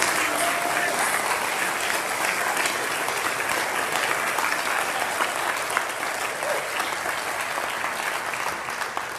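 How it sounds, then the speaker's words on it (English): A crowd at a high school senior scholarship and awards ceremony applauds the donors and scholarship recipients, a loud, even, sustained round of clapping throughout with no one speaking over it. "how about another round of applause for all the donors and recipients"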